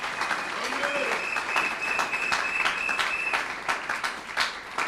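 A church congregation applauds and cheers in a sustained burst of clapping, with voices calling out over the crowd noise.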